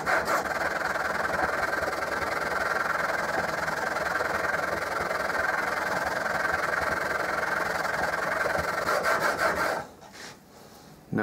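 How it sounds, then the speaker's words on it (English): A steel chisel held in a honing guide is pushed back and forth across a sharpening plate, giving a steady, close scraping rasp for about ten seconds before it stops. "hold down the front of the chisel and sharpen away"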